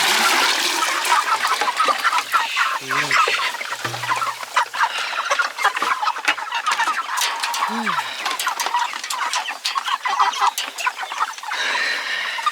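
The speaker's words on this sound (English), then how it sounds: "Scary chickens." Chickens clucking and squawking close by amid a busy, noisy yard, with a few rising calls standing out.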